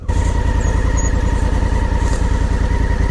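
A 2017 Honda Africa Twin motorcycle on the road, its engine droning steadily and loud with a constant throbbing pulse and rushing wind noise, no talking.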